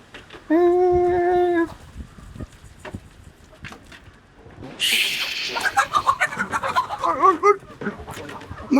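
A rooster squawks and clucks frantically while being caught, a flurry of agitated cries, with people talking and moving around it.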